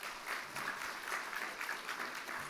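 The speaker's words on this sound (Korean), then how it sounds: "잠시 앞으로 나오셔서 좀 인사하실 때 환영의 박수 부탁드립니다." A church congregation at a Sunday worship service in New Jersey claps in welcome for a returning pastor, a soft, brief patter of many hands at moderate distance, with no talking.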